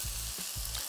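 Onions, garlic and ginger sautéing in oil with berbere spice for a red lentil stew, a loud, dense sizzle punctuated by low rhythmic thumps from stirring, heard close with no voices.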